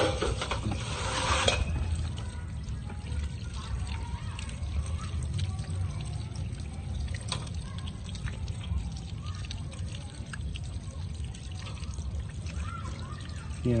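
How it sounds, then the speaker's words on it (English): Water is poured and sloshed continuously to wash soil off freshly harvested sweet potatoes in a rooftop home garden, a steady trickling and splashing with no break. "clean it in the water that we have and wash out the soil from the potato."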